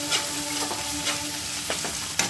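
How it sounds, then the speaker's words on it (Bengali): Chicken frying in a pan with cumin paste, giving a close, steady sizzle with a few light scrapes of stirring. "এখন আমি দিয়ে দেব 1 চা চামচ জিরে বাটা, এটা দিয়েও বেশ কিছুক্ষণ একটু ভেজে নেব"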